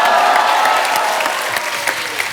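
Studio audience on a TV comedy show applauds loudly and continuously, a dense, bright patter of many hands that tapers slightly toward the end.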